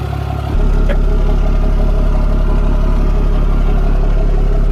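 A loud diesel engine idles close by with a steady low rumble and rattle, starting up near the beginning and running continuously.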